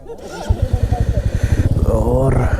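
A motorcycle engine thuds in a steady rapid pulse close by, with a loud rattling from a noisy chain riding over it and brief voices in the background, at night.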